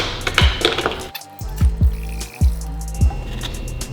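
Water poured into a plastic bag to mix a half-water, half-CLR soak for a bathroom faucet part, close and fairly loud, with a steady splashing flow broken by several sloshing gulps and drips over a few seconds, no talking.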